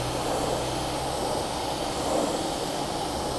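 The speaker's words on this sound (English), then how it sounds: "one thing I am doing though is I am using a pressure washer" A pressure washer sprays a white Toyota 4Runner during a car wash, producing a steady, loud rushing roar that holds evenly throughout with no talk.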